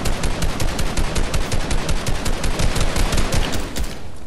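Rapid sustained automatic gunfire in the Fortnite video game, a loud close burst of dense repeated shots running for several seconds with no talk over it.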